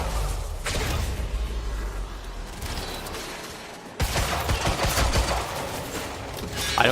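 Heavy pistol fire in the video game Quantum Break comes as muffled thuds and bangs over a rumbling background, with a sharp jump in noise partway through and a final loud hit near the end, without speech.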